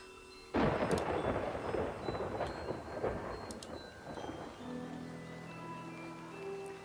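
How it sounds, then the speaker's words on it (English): Thunder rolls through in the settlement-building game Farthest Frontier, opening with a sudden loud crack that settles into a long, grumbling rumble fading over several seconds, with no talk. "Thunder. That's creepy."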